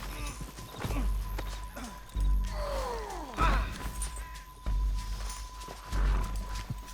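A horse in Red Dead Redemption 2 gives bursts of hoofbeats and snorting, with a sweeping whinny-like call in the middle, close and moderately loud.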